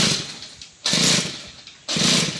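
A Kaaz TD40 brush cutter engine running on a start test, its broadband buzzing roar surging up in two sharp throttle bursts between quieter idle stretches, close and loud with no talking.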